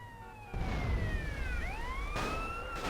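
A fire truck siren in the video game GTA San Andreas wails with rising and falling sweeping tones. It sounds steady and fairly loud over low engine rumble, with no talking.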